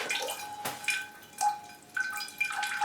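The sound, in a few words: water poured over orchid roots in a pot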